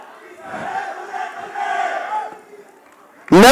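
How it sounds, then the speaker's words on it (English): A crowd shouts and cheers for the Chandigarh Cubs at the Box Cricket League launch, a rolling roar of voices rising and falling, then a sudden loud burst of noise right at the end. "a big round of applause for the Chandigarh Cubs"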